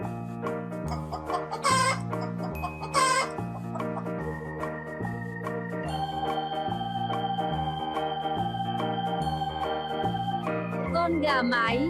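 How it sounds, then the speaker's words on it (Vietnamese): A hen from a children's animal-sounds learning collection clucks steadily in repeated rhythmic bursts. The clucks are close and clear over a continuous harmonic backing, and a few sharper calls rise toward the end. "Con gà mái."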